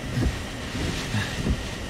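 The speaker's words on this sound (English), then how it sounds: "These waves are huge." Large surf churns and rumbles on an ocean beach during Tropical Storm Gordon, low booming surges under heavy wind buffeting the microphone, with no talking.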